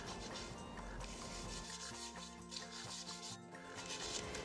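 Light hand sanding of a chair painted with Rust-Oleum chalky paint, a steady, close scratchy rubbing that continues without a break, with no voices.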